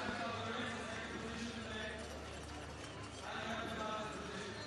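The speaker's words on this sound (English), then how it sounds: "There we are, Palomino horses." Palomino horses trotting beside a mountain bike race trail, their hoof clip-clop steady under continuous crowd and commentary noise, with a voice talking over it throughout.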